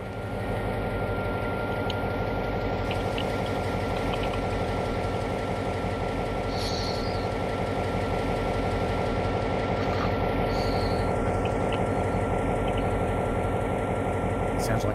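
A train running in the Trainz 2022 video game on an Australian route, a steady loud rumbling engine drone with rhythmic rail clatter continuing throughout, no talking.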